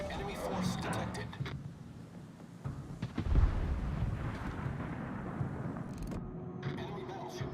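Deep naval artillery booms from warship guns in World of Warships roll through a dense, rumbling battle backdrop, one heavy blast standing out midway amid continuous low thunder-like noise and occasional automated voice alerts.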